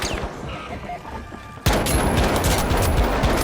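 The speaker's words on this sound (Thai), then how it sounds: "ปืนกลเหรอ" Dense, rapid machine gun fire in the shooter game THE FINALS, a fast bursting rattle that kicks in abruptly and stays loud and continuous after a quieter stretch of background game noise.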